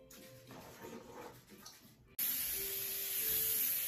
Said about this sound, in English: Yeah, spray it all over.